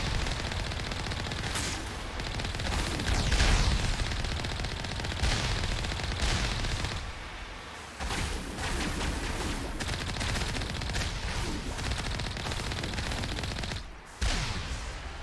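Turret gunfire in the Mass Effect video game, a dense sustained barrage of rapid shots and heavy bursts with brief lulls, loud and close throughout.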